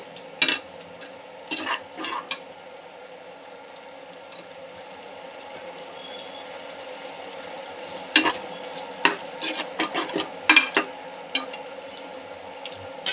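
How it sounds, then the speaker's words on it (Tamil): Shallow-fried raw jackfruit stirred into a biryani pot: a soft continuous sizzle with irregular bursts of scraping and clinking from utensil strokes, clustered near the start and again toward the end. "இந்த ஸ்டேஜில் நம்ம ஷாலோ பண்ண பலாக்காயை போட்டுக்கணும்."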